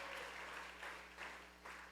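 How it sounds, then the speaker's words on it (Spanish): A church congregation applauds during a Spanish-language service, a faint, distant wash of clapping that swells in a few soft waves under a low steady hum. "Aplauda al Dios de la gloria."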